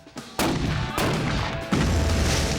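A Parrot rifle, an all-metal barrel cannon, fires in loud, sharp blasts, several booming reports in quick succession, each with a rumbling tail, close and alone.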